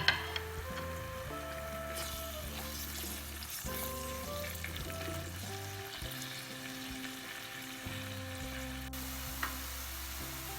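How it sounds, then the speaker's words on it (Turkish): Onions and red capia peppers sauté in a pan with a soft, continuous sizzle. The frying sits under fairly prominent background music for the whole stretch. "Onu da şöyle güzelce soğanlarla birlikte kavuralım."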